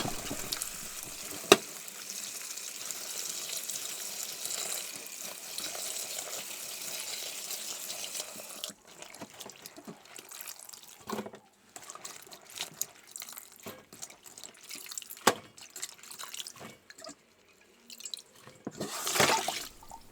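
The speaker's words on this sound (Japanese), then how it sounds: "きれいに取り終わったらまたボウルの底きれいに洗って、この作業をあと3回繰り返していきます。" Running water pours and splashes into a bowl as it is rinsed clean of sand while washing morel mushrooms, a steady faucet gush for the first half, then intermittent drips, splashes and handling clatter, close and moderately quiet.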